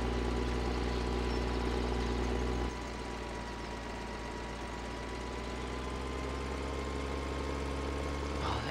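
A tractor engine drones steadily in the farming game Farming Simulator 13, a continuous low mechanical hum that drops slightly in pitch and level partway through, with no talk.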